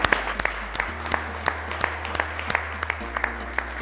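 An audience at an African chef cooking competition applauds the contestants, continuous mid-level clapping with a steady low hum underneath throughout.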